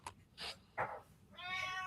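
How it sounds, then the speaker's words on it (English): A cat meows in a few short, quiet calls, then gives one longer, clearer meow at the end, heard fairly close in a quiet room. "Hey, it's Tony the cat."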